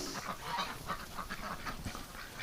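A flock of ducks quacks and honks in winter, many close, overlapping calls in a dense, busy chorus with no talk.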